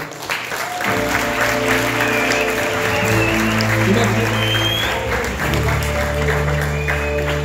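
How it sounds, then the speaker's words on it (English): A crowd claps and cheers loudly and continuously for several seconds, with music or voices faintly underneath. "Give a round of applause for these boys."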